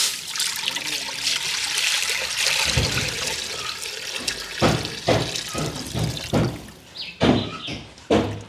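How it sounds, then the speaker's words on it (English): Water poured into a cooking pot while making Jamaican salt mackerel run-down, a trickling, splashing stream that stops and starts with several short gushes near the end. "Water in the pot, guys."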